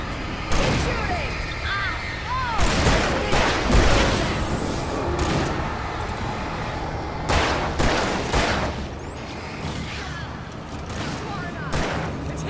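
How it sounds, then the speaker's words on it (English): Gunfire in the video game Alan Wake comes as repeated sharp bursts and booms among tense game sounds, with a voice speaking over part of the shooting. "Keep shooting."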